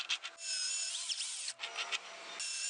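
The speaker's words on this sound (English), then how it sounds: "Then using a power drill to cleanly bore out the 4 marked anchor holes." Power drill boring holes in a recycled aluminum can for a camping stove, a loud high-pitched whine and grinding that runs almost continuously with a few brief dips.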